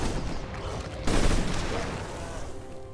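Units firing weapons in Sid Meier's Beyond Earth, a sudden booming burst of shots rising over a dense rumbling battle backdrop and then tailing off.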